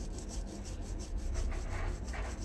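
A blade rubs back and forth on a wet, oiled natural sharpening stone, a quiet, close, rhythmic gritty scraping with soft repeated strokes.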